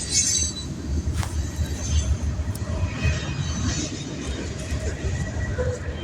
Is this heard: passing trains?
yes